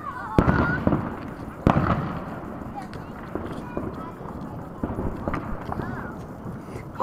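Fourth of July fireworks bursting outdoors, a few sharp loud bangs amid a steady crackling, noisy background, with people talking throughout.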